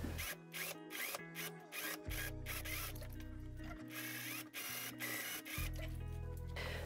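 A sewing machine understitches a seam on a summer tunic, running in steady mechanical bursts with short pauses between stretches of stitching, close and clear.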